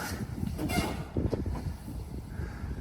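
A 150-year-old heritage steam locomotive on the Isle of Wight gives a steady low rumble and mechanical clatter, continuous and fairly close throughout.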